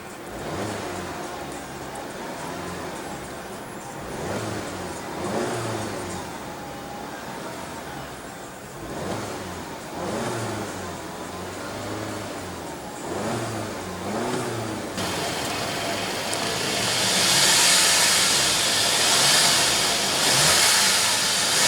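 A 2015 Audi A3 1.8-liter turbocharged four-cylinder engine revs repeatedly, rising and falling in pitch, building to a louder, breathier whoosh near the end.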